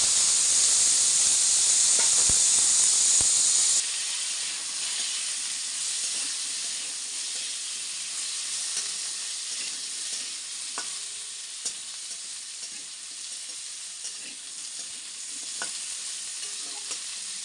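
Potatoes are added to hot oil with cumin seeds and sizzle. A loud hiss at the start drops to a steadier, quieter frying crackle with occasional stirring scrapes, close up and without talk.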